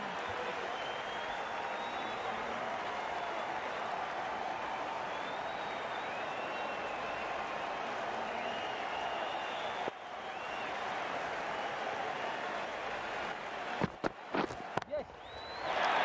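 Cricket match crowd applauding a boundary, a sustained, fairly distant wash of clapping that holds steady, then breaks into a few sharper bursts near the end.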